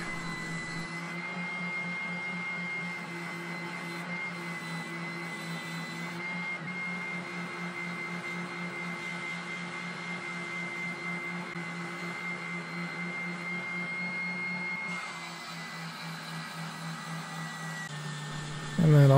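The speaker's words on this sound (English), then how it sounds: "going to the spindle sander to refine the shape of the headstock" Spindle sander refining the shape of a custom T-type guitar headstock: a steady, close motor hum with a constant whine and a faint gritty rasp from the wood, running unbroken with slight changes in load.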